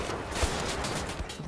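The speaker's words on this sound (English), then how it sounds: "Oh, that's cool, I can shoot this thing open." Rapid gunfire from the first-person shooter Wolfenstein: The New Order, a dense run of shots used to blast something open, loud and continuous throughout with no talking.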